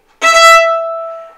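A violin played with a quick bow stroke: one bright, harmonically rich note bursts in sharply and rings on, slowly fading, close and alone.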